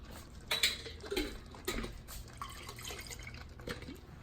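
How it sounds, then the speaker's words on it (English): Water sloshes around inside a kitchen container and is poured out, soft irregular splashes and drips at close range, quiet throughout. "I put a little bit of water in here, zhuzh it around for a little bit, and then dump it back in it"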